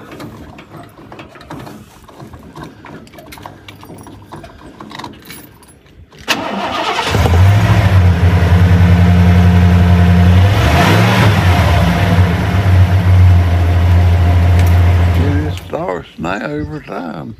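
A truck engine turns over after about two gallons of gas are added, catching at about six seconds and running loud and close with a steady rumble and revving for roughly nine seconds before cutting off.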